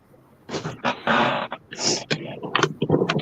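Dogs inside a house making a burst of whimpers, yelps and growly vocalizations, close and fairly loud, irregular and overlapping.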